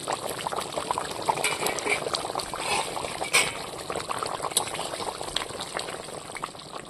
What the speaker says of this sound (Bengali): দিয়ে 2-3 মিনিট ফুটিয়ে নেব